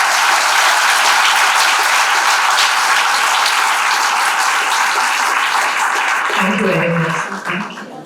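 A garment-business success event audience claps in a steady, dense, loud round for about six seconds, then tapers off as a voice begins speaking over the last moments.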